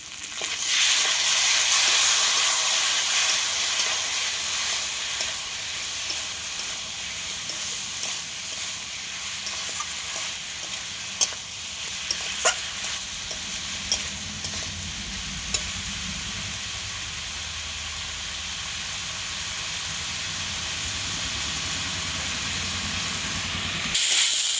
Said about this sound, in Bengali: মশলা দিয়ে খুব সুন্দর করে কষিয়ে নিচ্ছি আমি।